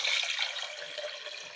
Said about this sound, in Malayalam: ഇതിലേക്ക് കുറച്ച് തണുത്ത വെള്ളം ഒഴിക്കാം.